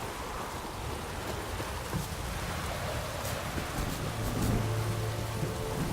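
Steady rain falls in The Witcher 3: Wild Hunt, a dense, even hiss of drops on surfaces, with a faint low rumble of distant thunder beneath and no voices.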